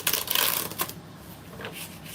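A deck of cards being shuffled for a card reading, with a quick burst of riffling flutter up close followed by a few softer shuffles, fairly quiet and without talk.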